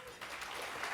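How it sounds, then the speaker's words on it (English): An audience applauds at a 50th anniversary celebration, a brief burst of dense clapping from a crowd with a voice faintly mixed in. "Just a round of applause"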